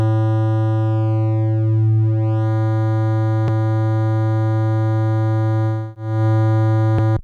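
A steady buzzy tone from a sine wave run through Logic Pro 11's ChromaGlow distortion plugin, harsh and square-edged, holding pitch with a brief sweep early on and a short dip near the end.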